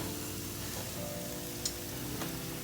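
Chopped onions frying in a pan for a spicy chicken and shrimp chow mein, giving a steady, close sizzle throughout with a faint clink partway through and no talking.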